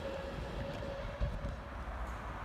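A train idles or runs at Stoke-on-Trent station, a steady low rumble with a sustained mid-pitched whine running across, fairly quiet and continuous with one brief thump midway.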